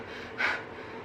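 A person imitates a dog's panting as part of a pranayama breathing exercise, giving one short, sharp breathy exhale, close and fairly clear.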